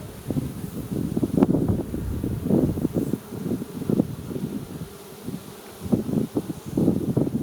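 Honey bees swarm around an opened hive during an inspection, a close, continuous buzzing drone that swells and fades, with some wind noise on the microphone.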